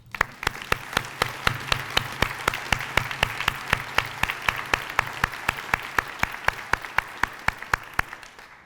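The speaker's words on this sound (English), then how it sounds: "so please give her a hand." An audience at a community leadership summit breaks into sustained applause, with many hands clapping in a loud, dense patter that runs evenly throughout with no voices on top.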